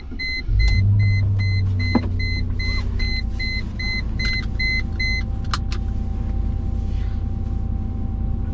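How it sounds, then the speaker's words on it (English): Cold start of a 1998 Mercedes C43 AMG: warning chimes sound, then the starter cranks briefly and the engine catches with a loud surge before settling into a steady, deep idle rumble. "All right, cold start."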